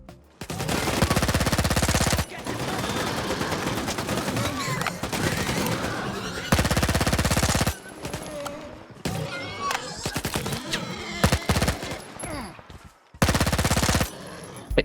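Bursts of rapid automatic fire from a Vector (Integral-A) submachine gun in S.T.A.L.K.E.R. 2, several loud sustained sprays separated by brief pauses and game sounds.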